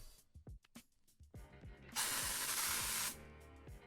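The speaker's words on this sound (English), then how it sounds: "Let's give it a little spritz." A Glade Cashmere Woods aerosol air freshener gives one hissing spritz lasting about a second, close and loud, after several light plastic clicks and taps as the can is handled.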